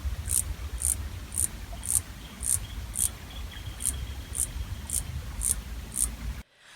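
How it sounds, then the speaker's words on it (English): Minor cicada (Platypedia minor) calling outdoors: a series of about a dozen sharp, evenly spaced clicking buzzes roughly every half second over a soft background hiss. "That sound was made by the minor cicada, Platypedia minor."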